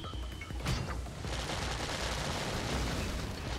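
Rapid volley of missile pod fire from a combat vehicle in the Sand Land video game, a loud dense burst of explosive thumps and crackles running continuously with no talking.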